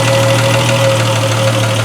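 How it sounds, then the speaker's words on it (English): A 1973 Triumph TR6 engine idles steadily at around 800 to 900 RPM with a low, even hum and a faint rhythmic knock, continuous and close throughout. "we're idling around 800 to 900 RPM"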